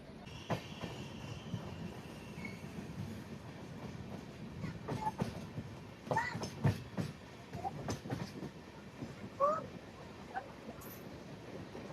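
Mandovi Express rolling along the Konkan Railway toward Thane, a steady rumble of wagons with clicking wheels and brief squeals, recorded from inside a coach with faint passenger voices mixed in.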